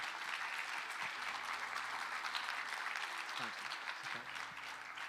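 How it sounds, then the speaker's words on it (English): A supply chain conference keynote audience claps steadily, a dense, fairly faint wash of applause that holds for several seconds, with a few scattered voices mixed in. "And right now, this is where you clap. You better clap right now, supply chain."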